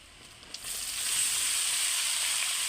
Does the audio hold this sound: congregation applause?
no